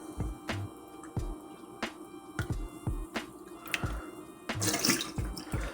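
Water poured and splashing into a small glass sauce cup, with close, uneven sloshes and drips recurring over several seconds.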